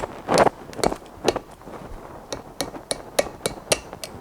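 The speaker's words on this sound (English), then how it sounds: "So I could take the hammer and do it this way so I can hit." Hammer strikes driving a brake seal into the front brakes of a 1973 Ford F100, a dozen or so sharp close taps at uneven intervals with quiet pauses between.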